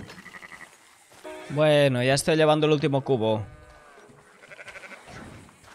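A sheep bleats loudly and close in the video game Red Dead Redemption II, at a farm with cattle and horses. The long, wavering, rising call stands out, and someone speaks quietly before and after it.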